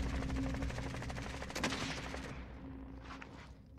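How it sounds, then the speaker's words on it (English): Rapid automatic gunfire rattles in Call of Duty Warzone, a dense burst of shots that fades toward the end amid game ambience, fairly faint overall. "I'm getting shot"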